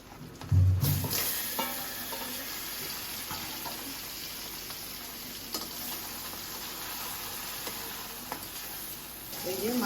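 Prawns and fish fry in hot oil, a continuous close crackling sizzle with scattered pops and a knock at the start, steady throughout with faint background noise.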